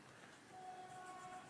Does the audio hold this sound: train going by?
yes